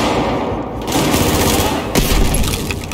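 Sustained rapid machine gun fire in Battlefield 4's Siege of Shanghai campaign, a dense continuous rattle of rounds with a heavier burst near the end, loud and close.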